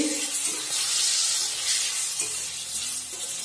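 Dried red chillies fry in a pan for a pumpkin kofta curry, a close, continuous hissing sizzle with faint stirring scrapes and small pops running through it.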